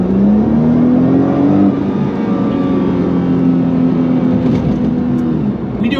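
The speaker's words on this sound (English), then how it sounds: "So you'll hear the exhaust here." A 2012 Nissan GT-R with about 127,000 miles roars under hard acceleration in race mode, its exhaust note climbing steadily then holding a loud, continuous drone, close and sustained throughout.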